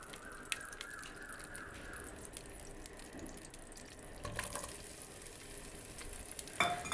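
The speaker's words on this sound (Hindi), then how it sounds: "दो चम्मच घी डालकर प्याज डाल दिया है।" Onions fry in ghee in a pan while cooking a tinda curry, producing a quiet continuous sizzle broken by faint clinks and stirring scrapes, which grow slightly louder toward the end.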